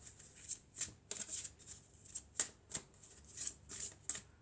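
Tarot cards being shuffled and drawn, a run of quick crisp riffling and flicking bursts at close range, about a dozen irregular snaps over a few seconds with no talking.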